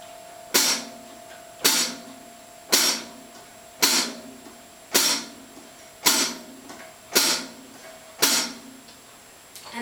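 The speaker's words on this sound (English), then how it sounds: "we can work separately on the hi-hat," Hi-hat in a swing demonstration, struck alone on beats 2 and 4 with eight evenly spaced, crisp chick sounds, close and fairly loud, each with a short decay.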